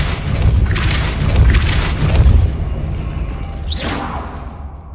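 A Depulso spell cast in the Hogwarts Legacy game bursts out as a booming whoosh with a bright rising swish near the end, over a continuous loud, low rumble.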